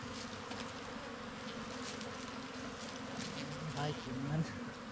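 Wild forest bees buzzing in a dense, continuous drone, close and fairly loud, with a few individual insects swelling nearer toward the end.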